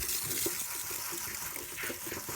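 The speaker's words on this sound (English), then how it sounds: "So just gonna rinse it real good with some cold water." Cold tap water runs steadily over freshly picked dandelion flowers being rinsed in a kitchen sink, a close, continuous splashing gush with no talking.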